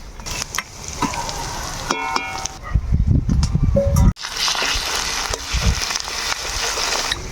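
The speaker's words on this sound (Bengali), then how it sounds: "আমরা কিন্তু আদা খান দিয়ে বেশ খানিক্ষণ নাড়ি নেই" Chopped ginger sizzles and fries in a pan while a utensil stirs and scrapes through it, with a steady loud crackle interrupted by brief knocks and a short pause.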